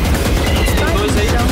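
Rapid automatic gunfire in Valorant, fired through a wall, rattles in a dense loud burst that keeps going for the whole moment, with game sounds mixed underneath.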